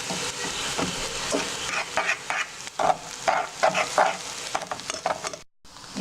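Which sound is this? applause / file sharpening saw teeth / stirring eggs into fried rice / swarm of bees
stirring eggs into fried rice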